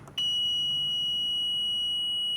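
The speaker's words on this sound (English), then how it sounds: "the beep sound is because of the buzzer" A small electronic buzzer in a simple switch circuit with a relay and LED sounds a single steady, high-pitched beep that starts abruptly and holds continuously after a faint click.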